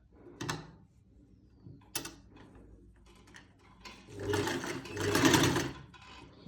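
A sewing machine stitches the folded hem of a salwar, heard as a few separate mechanical clicks and short bursts, then a louder, busier run of whirring and rattling near the end.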